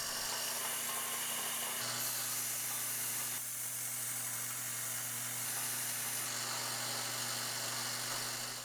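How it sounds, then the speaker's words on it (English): A belt sander grinding angled steel pieces flat in a workshop, a steady loud motor whine with a continuous abrasive hiss that shifts slightly in pitch as pressure changes, running alone without talk. "Then I set the belt sander to the same angle so I could grind them flat."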